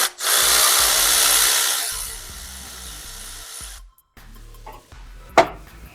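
A power tool, likely an impact or drill driver, spins off a 10mm bolt from the lower rear engine mount of a 2008 Chrysler Town & Country, running loud and close for about four seconds before stopping, then a brief clatter and a sharp knock.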